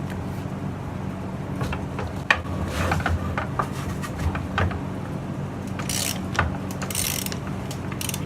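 Ratchet clicks and sharp metallic cracks come from old bolts being broken loose on a bumper car, a close, irregular series of clicks and snaps over a steady background hum.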